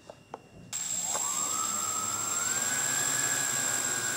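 Flying3D X6 hexacopter drone motors spinning at minimum throttle, starting abruptly and settling into a steady, continuous whine with a slowly rising pitch, fairly close and loud, after a few faint clicks.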